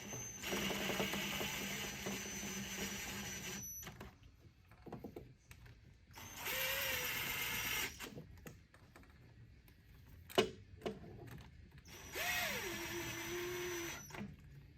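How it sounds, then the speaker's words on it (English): A DeWalt power driver snugs up the ignition coil bolts on a Ford Escape, giving three loud, close whirring runs separated by quieter pauses with faint clicks and clanks. "And just snug them up with my DeWalt here."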